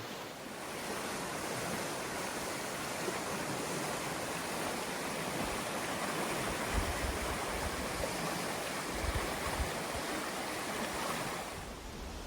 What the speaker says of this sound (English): I'm going to get away from the river because it's pretty loud